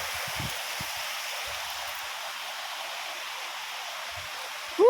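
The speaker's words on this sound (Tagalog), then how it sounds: "Sapa oh." A stream flows in a steady broad rushing wash, moderately near, with a few low thumps and bumps and no voices.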